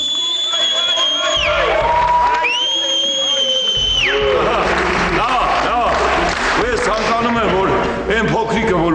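Party guests clap, cheer and whoop for a toast at a celebration for a newborn. A loud, dense crowd roar runs throughout, with high whistles or shouts rising over the clapping and cheering.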